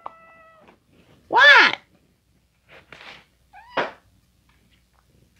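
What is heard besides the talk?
cat meowing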